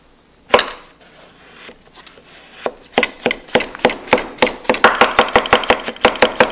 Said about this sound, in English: This is a lemon cucumber, and today I show you how to cut it